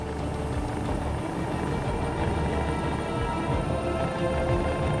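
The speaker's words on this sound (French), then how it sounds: "L'hélicoptère du SAMU, c'est le moyen le plus rapide d'être secouru." EC 135 SAMU medical rescue helicopter flying over farmland, a constant dense rotor and engine roar that stays steady and fairly loud for the whole stretch, with no voices.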